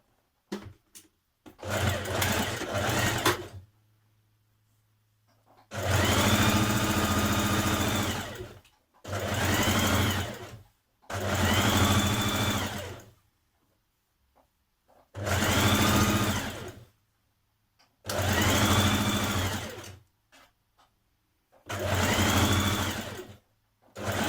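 A sewing machine stitches a 1.5 centimetre seam allowance down the side of a Simplicity 1064 tunic, running in seven close bursts of steady whirring separated by short pauses.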